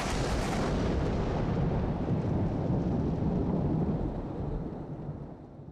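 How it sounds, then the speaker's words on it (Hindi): A heavy, continuous thunderous roar from a large Kansas thunderstorm producing upward lightning, loud and sustained with deep rumbling before slowly fading toward the end, with no voices. "ये शानदार फुटेज 2022 में कैंसस के तूफान में कैप्चर हुई।"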